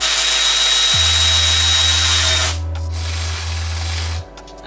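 Power ratchet spinning wheel bolts tight while installing aftermarket spec wheels on a car: a loud, steady mechanical whir running for several seconds, ending abruptly, up close and without speech.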